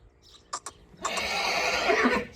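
A mare neighs close by: a couple of short snorts, then a loud, drawn-out whinny lasting over a second.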